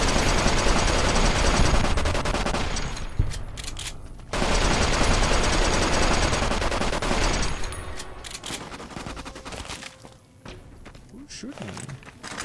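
Rapid bursts of gunfire in the video game Fallout New Vegas, loud sustained automatic fire broken by short pauses, with someone talking over the shooting.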